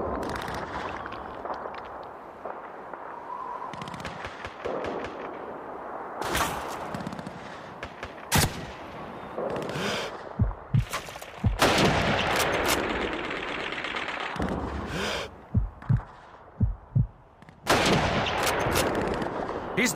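Rifle shots in Call of Duty 2 during a Stalingrad sniper fight around City Hall, with several sharp, loud cracks spread irregularly over the battle, under a steady din of distant gunfire and combat noise.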